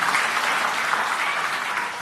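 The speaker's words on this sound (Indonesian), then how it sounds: "Yang percaya tepuk tangan yang meriah bagi Tuhan." A church congregation breaks into lively, dense applause, a short steady wash of many hands clapping together without anyone speaking over it.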